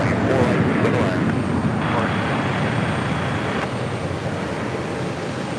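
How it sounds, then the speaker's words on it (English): Air Europa Boeing 787-9 Dreamliner at JFK airport, a broad, steady jet engine roar from nearby that holds throughout and eases slightly toward the end, under a voice talking. "Air Europa 787-9 Dreamliner."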